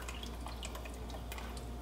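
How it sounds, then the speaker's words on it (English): Broth is poured straight from a jar, a faint steady trickle and light dripping of liquid in a quiet kitchen, with no talking. "My broth in here, I don't have much left, so I'm just gonna pour it right from the jar."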